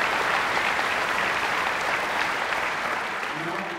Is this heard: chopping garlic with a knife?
no